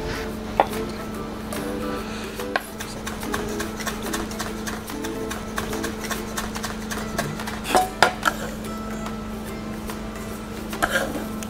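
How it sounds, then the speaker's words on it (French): Thyme, chives and rosemary from a terrace garden chopped with a knife for a vinaigrette, a run of quick close taps with a few sharper knocks against the board over a steady low hum. "plus les petites herbes de notre terrasse, du thym, de la ciboulette et du romarin. On va hacher tout ça"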